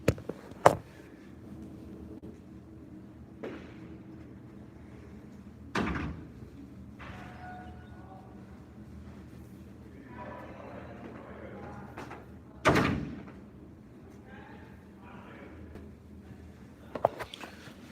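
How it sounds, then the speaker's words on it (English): Door being closed indoors, with several separate thuds and knocks spread over eighteen seconds, one louder bang near the middle, all against a quiet room with faint movement. "let me close this door real quick"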